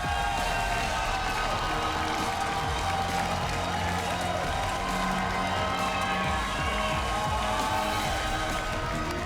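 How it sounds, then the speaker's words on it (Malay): Steady applause and crowd noise fill a game-show studio as the audience claps for contestants Su and Eda, continuous and fairly full, with music underneath. "Dan kita berikan tepukan untuk Su dan Eda."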